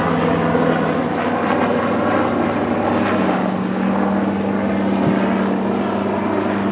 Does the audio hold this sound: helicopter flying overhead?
yes